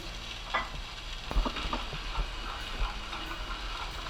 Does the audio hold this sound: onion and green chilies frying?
yes